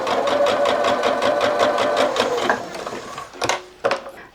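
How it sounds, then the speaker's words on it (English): A sewing machine runs in a fast, steady rhythmic chatter as it stitches a quarter-inch seam joining rows of rag quilt blocks, then stops, followed by a couple of brief handling clunks. "I'm going to go put this under the foot, and I'm going to sew the 1/4-inch seam"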